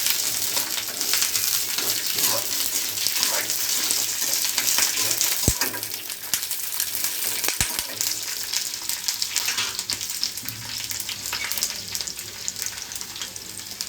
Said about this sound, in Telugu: పచ్చిమిర్చి, ఆనియన్, అవి ఆయిల్లో వేసుకుంటున్నాను